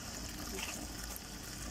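Water runs from a tap into a container, a steady, noisy rush with no pauses.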